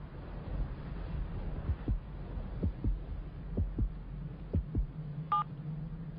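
A heartbeat carries through a phone held against the chest. Faint, regular double thumps sound over a low hum, followed by a short electronic beep.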